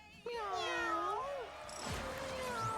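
Cartoonish cat meows with rising and falling pitch come from the video game Mewgenics, several in a row, loud over steady game sound, followed by a sharper sweep.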